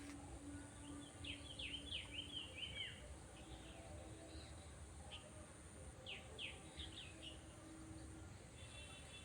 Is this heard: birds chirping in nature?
yes